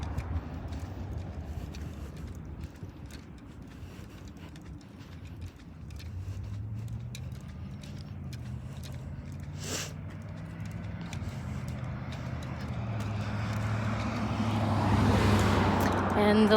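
Road traffic passes along Main Street on the way to a bakery, a steady rumble of cars building and swelling nearer toward the end, with a brief mechanical clatter midway and a voice talking over it.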